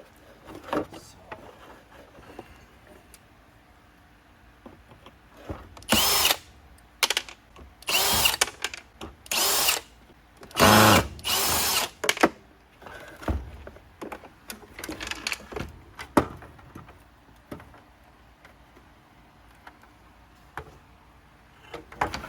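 A power screwdriver removes screws from a Bissell Healthy Home vacuum during teardown, sounding as several short, loud whirring bursts in the middle of the stretch, with quieter handling clicks and rattles before and after.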